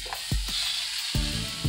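Butter sizzles in a preheated pan with chili pepper, parsley and garlic; a soft, steady hiss sits under a few dull knocks of the pan or utensil.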